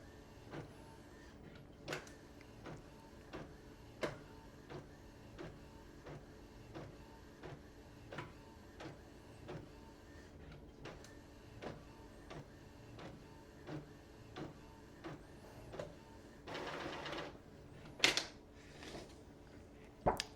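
Bluetooth printer running a client's print job, a steady mechanical hum punctuated by regular sharp clicks and ticks from the print head, with a brief louder whirring burst and snaps near the end.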